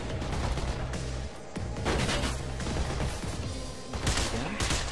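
Rapid automatic gunfire sprays in dense, sustained bursts during Mirror's Edge gameplay on Xbox 360, loud and close with brief gaps between volleys and sharp crack-like impacts layered throughout.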